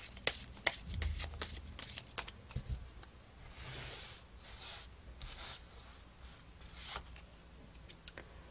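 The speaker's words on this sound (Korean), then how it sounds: "자, 그러면 추가 카드 한번 뽑아볼게요" Tarot cards shuffled by hand in a quiet room, with a run of soft riffling and slapping bursts, several longer whooshing shuffles in between, close and fairly quiet with no talking.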